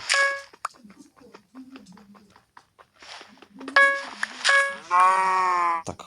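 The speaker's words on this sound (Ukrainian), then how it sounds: "Корова." A Minecraft cow on a skyblock map lets out a drawn, wavering moo near the end, after quieter clicks and footsteps and a few short harmonic animal calls.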